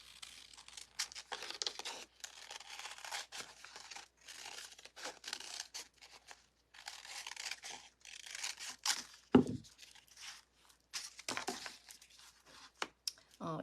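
Scissors snip through a sublimation transfer sheet for making earrings, producing quiet, intermittent crinkling and cutting sounds at close range, with brief pauses and occasional louder paper rustles.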